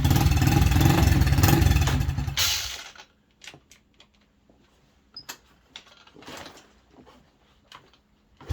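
A Yamaha TTR 90 motorcycle engine, bought cheap and needing a top end, runs loud and close for about three seconds, then cuts out, leaving only faint scattered clicks and knocks.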